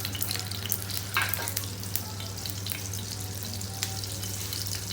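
Butter sizzles in a heated frying pan while a Parsi dish, sali par edu, is cooked, giving a steady crackling hiss over a low hum with no talk.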